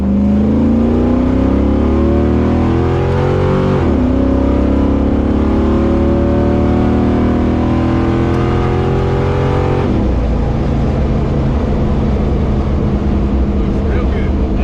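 A long-built rock crawler's engine revs loudly and continuously up close, the pitch climbing and falling through several throttle blips with a sharp drop near the middle, no voices.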